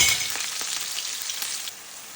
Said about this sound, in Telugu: ఎర్రగడ్డ గోల్డెన్ బ్రౌన్ కలర్ వచ్చేంత వరకు వేసుకోవాలి.